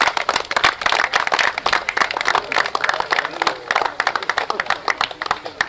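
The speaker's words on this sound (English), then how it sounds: "Big round of applause for the runners-up." Applause for the runners-up at a Leeds Premier League 2024 final, a dense patter of clapping hands from a nearby crowd with voices mixed in throughout.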